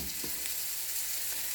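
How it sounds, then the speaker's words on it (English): About four tablespoons of butter melt in a pan, making a brief, even hiss and sizzle with a couple of faint stirring touches. "you just like to stir it until the butter is melted"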